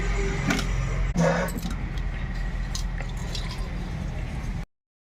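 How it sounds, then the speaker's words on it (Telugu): Small fish rubbed with salt and rinsed in a bowl of water, soft drips, splashes and squishy handling sounds up close, quiet and irregular before the sound cuts off. "ఉప్పేసి శుభ్రంగా వరుసుకొని శుభ్రంగా కడుక్కోవాలి"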